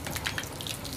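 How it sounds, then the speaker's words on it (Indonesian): Water gushes from a household tap at strong pressure, a steady close splashing rush that lasts the whole moment with no voices. "Kencang sekali air yang kita dapat, padahal tekanannya rendah"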